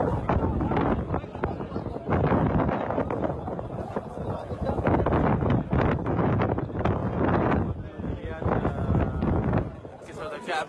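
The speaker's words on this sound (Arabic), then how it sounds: "رياح شديدة أثناء صلاة المغرب أتت في المسجد الحرام" Strong wind during a sandstorm at the Grand Mosque in Mecca roars constantly into the microphone as loud, buffeting gusts, with a crowd and voices audible underneath throughout.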